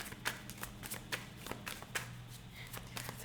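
Tarot cards being shuffled by hand, a quiet, close series of soft riffling slaps and taps in an irregular rhythm, with a faint low hum underneath.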